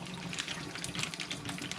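Mushrooms being rinsed under a running kitchen tap, a steady close hiss and splatter of water falling continuously with small fluctuations and no talking.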